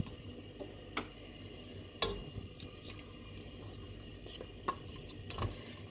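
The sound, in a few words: frying and stirring haleem with yogurt in a pot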